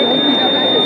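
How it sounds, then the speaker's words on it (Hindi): A laser LDR security alarm buzzer at a school science exhibition gives a steady, unbroken high electronic tone that lasts the whole moment, with crowd chatter and voices underneath. "जो कोई पर्सन आएगा और ऐसे टच होगा तो अलार्म बजने लगेगा"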